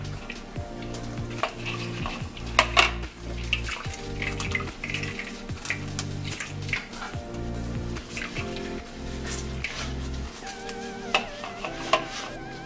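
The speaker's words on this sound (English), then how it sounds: "So you just squeeze it inside so that the oil can come out from it." Wet squishing and dripping come from grated coconut pulp being strained and squeezed by hand into a bowl to make coconut oil, with occasional clinks against the bowl, close up and fairly quiet.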